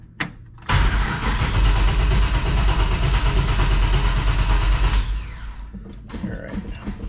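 A Chevrolet ZZ4 crate V8 cranks briefly after a short pause, catches and roars into a loud, steady run with lumpy low-end pulses, then drops back toward a quieter idle near the end.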